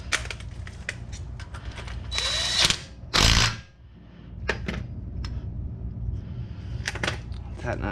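A power tool briefly whirs while tightening a bolt on a Toyota pickup front brake adapter in a garage, two short loud bursts amid clanks and handling noises.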